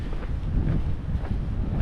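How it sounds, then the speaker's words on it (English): Steady wind buffets the microphone outdoors on the Croatian island of Hvar, a continuous low rushing roar with gusty swells and no voices. "still quite windy"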